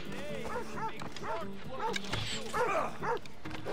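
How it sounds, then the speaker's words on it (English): A dog in Assassin's Creed Odyssey lets out several sharp, yelping barks in quick succession, close and fairly loud, with a person talking over them. "Oh, stupid dog!"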